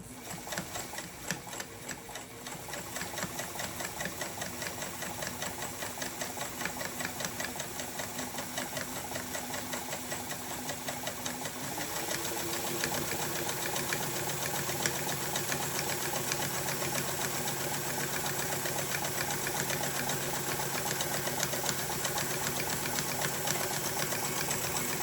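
An Adler 87 industrial sewing machine runs a wide zigzag stitch through fabric. It gives a steady, rapid mechanical clatter that shifts to a slightly different pitch partway through and then holds even and close.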